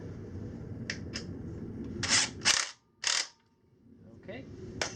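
A nut being threaded onto a bolt while fabricating a flag mount for a Sur Ron Light Bee electric dirt bike gives a few short, close metallic clicks and scrapes, with a brief quiet gap between bursts.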